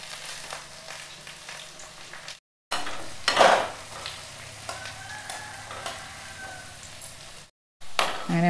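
Dried red chillies and curry leaves temper in hot oil for a dried fish curry, a close crackling sizzle that flares loudly once, then settles into a steady fry with brief silent gaps.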